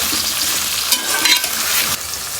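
Okra (bhindi, lady finger) frying in hot oil gives a steady, dense sizzle with crackling hiss throughout and a few louder bursts, close and continuous with no voices.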